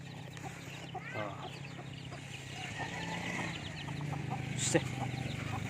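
Young chicks clucking and peeping outdoors in the sun, a steady busy chorus of small fowl calls with a louder squawk near the end.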